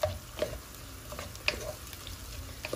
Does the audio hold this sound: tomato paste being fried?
yes